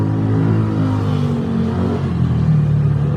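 A vehicle engine with a freshly replaced battery after the old one drained turns over with a continuous low rumble and throbbing tone, close by and steady throughout.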